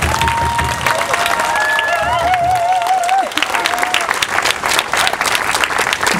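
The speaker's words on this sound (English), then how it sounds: "I'd just like everybody to give them a round of applause" A crowd at an outdoor commemoration and solidarity rally for the Oka Crisis Mohawk resistance claps loudly, with cheering voices and whistles over the sustained applause, which thins into scattered claps later.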